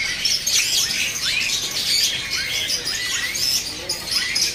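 Adult Asian pied starlings (jalak suren) at a bird market stall give repeated bright chirps and squawky calls, moderately distant, over a constant busy background hiss.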